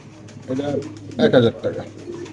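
Pigeons coo close by at a pigeon market, a short throaty burst rising and falling twice over a low murmur of people talking.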